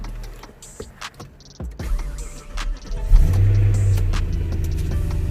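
A BMW E92 M3 fitted with a flex-fuel kit cranks over and fires, then revs up and settles into a loud, steady idle that rumbles on to the end.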